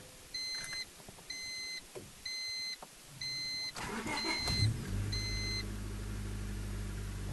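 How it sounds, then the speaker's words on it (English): A 1997 Honda Civic sits with its key turned, giving a series of evenly spaced warning chimes before the engine cranks, catches and settles into a steady, close-up idle, with no one talking. "You're going to go ahead and start your car up."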